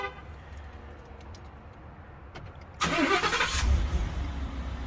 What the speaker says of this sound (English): The truck started, and we're flashing green and we're active.